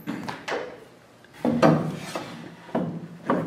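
A jointer face-joints a wood board with a light cut of about a sixteenth of an inch, making repeated rasping passes that swell and fade in short bursts, close up and with no talk.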